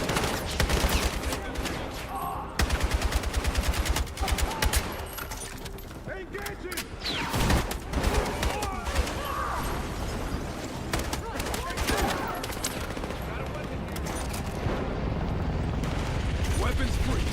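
Heavy, continuous volleys of gunfire in Battlefield fill the scene, rapid automatic bursts overlapping into a dense roar that rarely lets up, with in-game voices calling out over the shooting.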